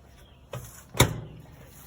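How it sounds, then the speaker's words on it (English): Kitchen cupboard doors in a Palomino Puma 295BHSS travel trailer are pulled open, giving a soft thump followed about half a second later by a sharper, louder knock as the second door swings open. Close and quiet, with no voices. "Open these two doors"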